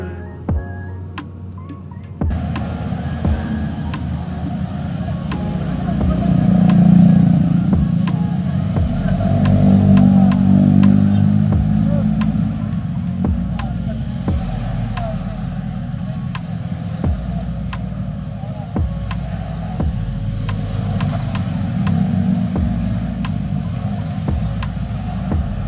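Yamaha NMAX 155 scooter riding along a busy road on a Bekasi to Lombok holiday tour, a steady low engine drone with wind rumble that swells around the middle and holds on.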